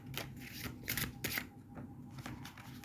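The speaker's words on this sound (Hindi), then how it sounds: "हम उससे पहले इसमें से कुछ कार्ड्स लेंगे, देखते हैं कि आपके लिए क्या आ रहा है एक्वेरियस।" Tarot cards being shuffled by hand, a soft close riffling and flicking in repeated bursts, quiet and steady with no talk over it.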